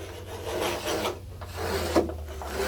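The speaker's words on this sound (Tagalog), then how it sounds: "pinuputol nila yung hardiplex. Mahirap pala putulin niya. Wala kasi gamit na grinder." A hardiplex board is being cut by hand without a grinder. Repeated coarse rasping strokes scrape back and forth at close range with a low hum underneath, and no voices.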